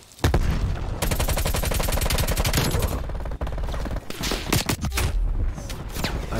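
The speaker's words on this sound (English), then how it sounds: "Grenade out!" Call of Duty: Black Ops Cold War Hardpoint match on the Garrison map, with a grenade thrown amid loud, sustained automatic gunfire, rattling bursts and sharp booms that continue without pause.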